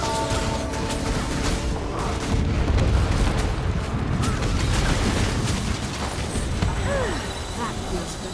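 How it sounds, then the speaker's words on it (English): Cannon fire in the game Guild Wars 2: dense, continuous booming blasts rumble throughout a loud battle, with voices and other game sounds layered over the barrage. "Fire all cannons!"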